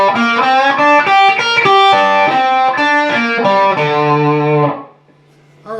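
A loud, close distorted electric guitar plays a short phrase of a riff, choppy repeated notes closing on a held low note before a quick stop.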